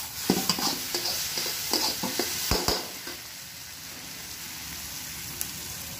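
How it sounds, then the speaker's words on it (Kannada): Curry leaves dropped into hot oil for Gobi Manchurian crackle and spit in close, sharp bursts for a few seconds, then settle into a softer, steady sizzle. "ನೋಡಿ, ಕರಿಬೇವು ಹಾಕೋತಾ ಇದ್ದೀನಿ."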